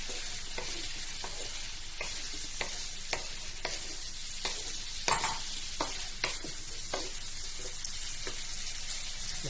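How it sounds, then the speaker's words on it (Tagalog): Seafood in Cajun sauce sizzles steadily in a hot pan while a utensil stirs it in regular scraping strokes, about one every half second, close and even, with no talking. "nagigisa natin yan hanggang sa maging orange"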